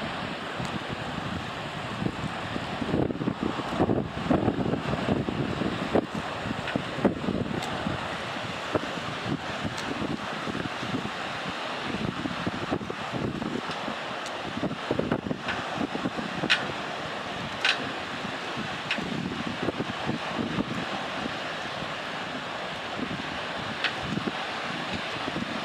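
Storm on Cayuga Lake, with strong wind gusting and buffeting the microphone over crashing lake waves, a continuous roar that surges and eases throughout.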